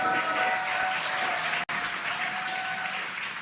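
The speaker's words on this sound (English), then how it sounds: "You can hear the crowd here." A dense crowd at the Crew-9 SpaceX Dragon splashdown claps and cheers continuously and loudly from a distance, with one brief dropout in the middle.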